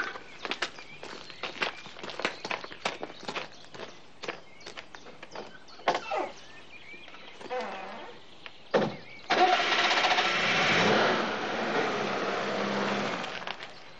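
A car engine cranks and catches at close range, then keeps running loudly and steadily for several seconds after footsteps and other sounds.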